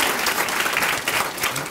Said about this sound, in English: Please, a round of applause for all of our sponsors.